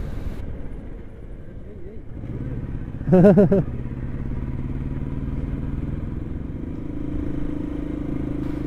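A motorcycle held at a steady cruising speed on a cold, climbing mountain road near Kalimpong, a low continuous engine drone with a brief louder rattling clatter partway through; someone speaks over the ride.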